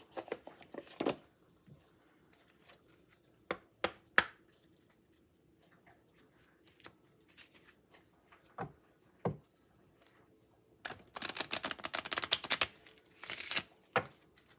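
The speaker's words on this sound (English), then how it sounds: "And let's get some romance and love oracle cards." Oracle cards being handled and shuffled, with scattered sharp taps and slaps, then a dense riffling flutter of cards near the end, all close up in a quiet room with no talking.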